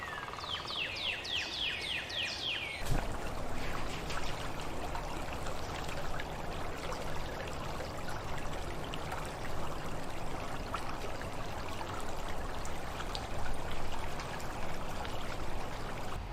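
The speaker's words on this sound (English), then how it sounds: "we're at a new creek." Small creek flowing steadily in a broad, close rushing wash, with a bird chirping briefly near the start and a sharp knock just before the water takes over alone.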